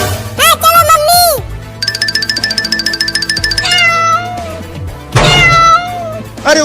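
Cats meowing repeatedly, loud and close, with long wavering cries at the start and end and a rapid ringing, chiming tone in between; voices talk alongside.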